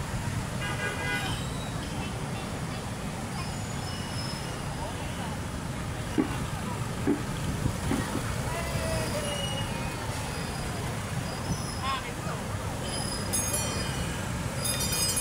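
Busy road traffic while crossing a street near Pedro Hill, with many vehicles rushing past, engines droning continuously and occasional horn toots, some nearby and some farther off, and a voice talking over it.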